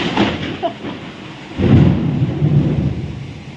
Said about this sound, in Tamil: மழை செம்ம மழை பெய்யுதுங்க